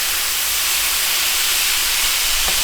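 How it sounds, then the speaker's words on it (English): Food sautéing in a pan for an Asian slaw dog, a loud, steady broadband sizzle that holds evenly throughout with no voices. "we're just going to get this stuff all sauteed up"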